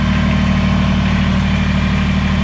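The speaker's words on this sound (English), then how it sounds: "that makes the tractor go forward" Kubota BX23S compact tractor engine running as it starts moving forward, a steady loud mid-to-low diesel drone with constant vibration throughout, close by and with no talk.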